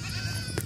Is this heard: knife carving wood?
no